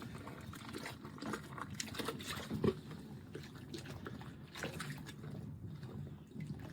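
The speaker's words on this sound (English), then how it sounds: "the very hot water is starting to come into the system." Very hot water flowing into an outdoor hot tub at a lodge, a steady close-up pouring and trickling wash with small gurgles and splashes, continuous and moderately loud with no voices.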